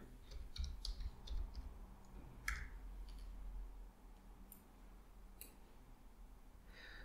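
A computer keyboard is typed on lightly with a few scattered quiet clicks and keypresses, close but faint, over a low background hum, entering a command in a terminal.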